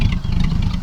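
A 1940s English special's flathead V8 idles through a straight-through, glass-fibre-filled stainless exhaust, giving a steady, loud, low burbling rumble close by with no talk over it.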